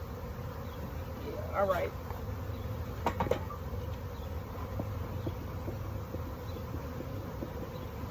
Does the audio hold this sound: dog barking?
no